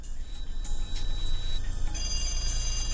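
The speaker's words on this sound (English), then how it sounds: "Suddenly, a phone rang." Telephone ringing indoors, a repeated electronic bell tone pulsing steadily for about three seconds over a low background hum.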